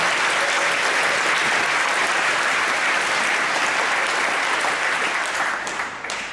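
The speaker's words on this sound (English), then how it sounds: "we better give them another big rousing round of applause" Steady, dense applause from an audience fills a church at an awards celebration, loud and continuous for about six seconds before easing slightly at the end.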